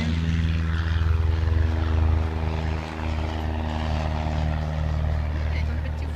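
Steady propeller airplane engine drone at an airport, continuous and fairly loud with a low harmonic hum and a brief dip midway; no talk.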